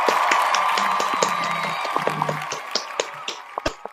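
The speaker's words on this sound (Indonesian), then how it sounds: "beri tepuk tangan dulu dong bagi jawaban-jawaban kalian itu" A live audience at a quiz-style competition claps for the contestants' answers: brisk, scattered applause near the listener, thinning into a few separate claps as it dies away.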